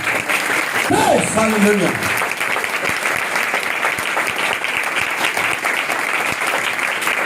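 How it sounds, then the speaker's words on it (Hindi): A congregation at a church in Pakistan breaks into loud, sustained applause that fills the room, with a shouted exclamation from the preacher early on over the clapping. "तो नहीं आए तो जोरदार तालियां बजा दें।"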